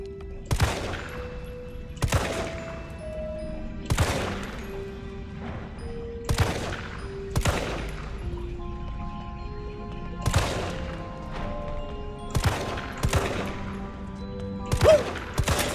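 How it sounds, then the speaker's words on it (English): Sharp, loud gunshots ring out one at a time in a Resident Evil 3 Remake shootout, roughly a dozen reports spaced about a second apart, with music in the background. "Let's have a climactic shootout."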